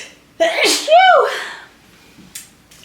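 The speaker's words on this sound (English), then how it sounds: "I'm gonna sneeze." One loud, close human sneeze with a sharp intake and a forceful burst, followed by quiet and a couple of faint small noises.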